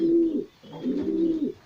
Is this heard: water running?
no